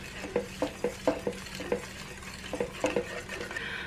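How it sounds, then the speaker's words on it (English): A spoon stirring milk into a thickened flour and onion base in a pot for cream of broccoli soup, soft rhythmic scrapes and taps against the pan with a faint bubbling underneath, quiet and close, no talk. "Now I'm just going to stir that up until it becomes thick again."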